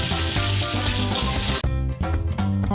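Crispy flour-coated fried chicken sizzling in hot oil, a loud continuous crackle that cuts sharply quieter as the pieces are lifted out, leaving softer bubbling.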